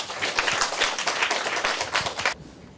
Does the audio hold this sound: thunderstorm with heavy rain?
no